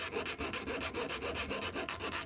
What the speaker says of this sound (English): Well, I'm gonna file it again.